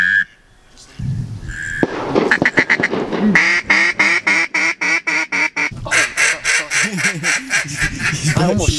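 Duck quacking at a creek during a waterfowl hunt, a rapid run of loud, close quacks in steady series, likely from a duck call, growing denser toward the end, with brief voices near the start.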